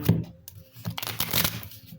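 Tarot cards are shuffled by hand in quick, close, soft riffling and sliding bursts with brief pauses between them, and no talking.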